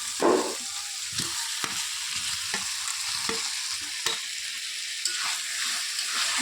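Cauliflower and potato are stirred through hot fried masala in a pan on a stove. A close, steady sizzle runs throughout, broken by repeated scraping strokes of the spoon at an uneven rhythm.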